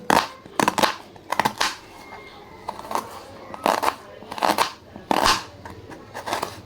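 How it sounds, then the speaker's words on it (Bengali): A knife slicing an onion into thin slices on a board for a quick snack recipe, a run of sharp, crisp cutting strokes close by in uneven bursts, with no talk. "এখন পেঁয়াজটা কেটে নেব সুন্দর করে"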